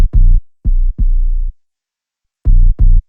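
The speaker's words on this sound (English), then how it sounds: "And then I decided to go with a classic hard-hitting 808 sound," Hard-hitting 808 bass notes processed with a gritty Dust and Dirt preset, five deep booming hits with sustained tails in a broken rhythm and a long silent gap, loud and with no talking.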